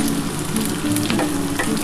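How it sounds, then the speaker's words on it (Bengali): Continuous sizzling of food frying in a hot pan, a close, even crackle with a low hum beneath and no talking. "দেখো আমার কিন্তু বেগুনটাও আস্তে আস্তে ভাজা হয়ে এসছে"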